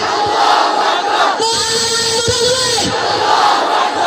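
A large crowd roars back in unison to a Naraye Takbir call at an Islamic religious sermon gathering, a loud sustained chant that swells for a couple of seconds over steady crowd noise.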